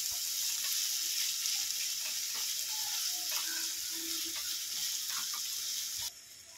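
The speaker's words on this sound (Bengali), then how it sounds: "একসঙ্গে সব ভেজে নেব। ভালো করে সবগুলো একটু ভেজে নেব।" Onion, ginger, garlic and chili fry in a pan with a steady, bright sizzle that runs throughout, broken by soft stirring scrapes, then dropping noticeably quieter near the end.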